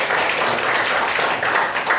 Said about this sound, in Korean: 여러분 자신을 위해서 박수 한번 해주세요